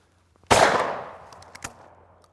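A Miroku MK11 shotgun fires at clay targets. One loud, close blast is followed by a decaying reverberant tail and a fainter sharp crack about a second later, with nothing else in the background.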